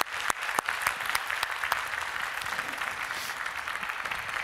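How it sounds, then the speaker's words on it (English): An audience applauds after a talk at a WordCamp conference in Stockholm, a steady, dense clapping from a crowd that carries on at even strength throughout. "How about a big round of applause to start with?"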